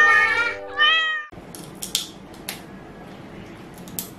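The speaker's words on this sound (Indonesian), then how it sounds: "Baru saja ia turun dari mobil, kucing-kucing liar sudah menyambutnya." Stray cats meow loudly two or three times up close in an animated children's cartoon, followed by faint clicks and rustling in a quiet room.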